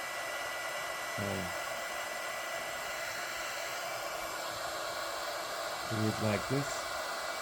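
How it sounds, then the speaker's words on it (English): A heat gun shrinks heat-shrink tubing over the fabric-covered cable of a Wapa high-frequency device handle, making a steady, close, airy blowing hiss throughout, with brief talk over it twice. "now I'm shrinking the wire, and the idea is to protect the fabric of this nice pretty cable"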